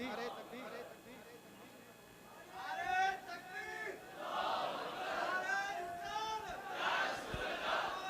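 A large crowd at a religious gathering shouts the Takbir slogan in response, with several loud rising waves of massed voices, distant and reverberant, following a quieter lead-in.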